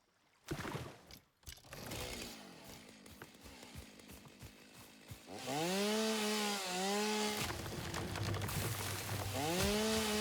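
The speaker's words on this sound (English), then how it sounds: "Get that chainsaw in the hand slot there. And yeah, we're going to chop some trees." Chainsaw felling trees in the video game Satisfactory, a steady buzzing engine drone that revs up into a louder sustained whine partway through, with rising and falling pitch sweeps as it cuts, heard alone without talk.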